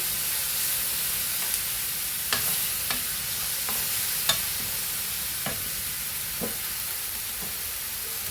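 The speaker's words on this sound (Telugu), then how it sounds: "చూడండి, టమాటాలు బాగా వేగినాయండి" Tomatoes frying in a pan for a kidney bean and beetroot masala curry give a steady soft sizzle, broken by several sharp scrapes of a spoon stirring against the pan.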